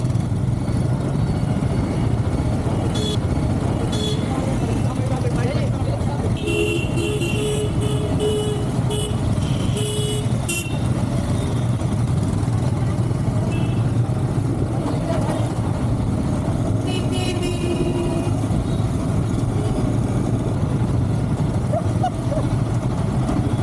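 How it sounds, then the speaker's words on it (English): Dense, busy road traffic in Nepal near the Indian border, with a steady wash of car and truck engines and repeated short horn toots rising above the continuous rumble. "Traffic becomes denser and more colorful."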